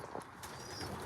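Show pigeons in a show area give soft, low coos over a steady background hum, faint and close, with no talking.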